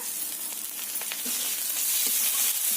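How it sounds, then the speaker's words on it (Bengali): Onion, garlic and ginger paste sizzle steadily in a hot pan, a continuous close hiss with a few soft stirring scrapes, no talking. "আদা বাটা দিয়ে আবারও ভালো করে কষিয়ে নি"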